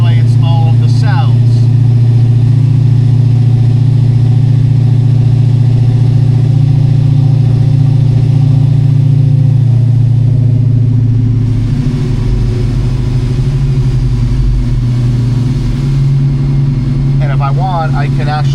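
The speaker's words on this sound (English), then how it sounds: "as I hit the accelerator and take it up to speed, it populates all of the cells." A car engine on a Mainline Prohub chassis dyno pulls up to speed, a loud steady drone with strong low harmonics that rises in pitch and then levels off at a held speed.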